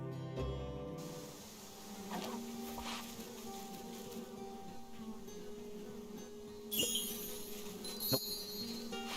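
Bees buzz softly and continuously in the farming video game Story of Seasons: Grand Bazaar, a low droning hum with a few brighter chimes and effects layered over it.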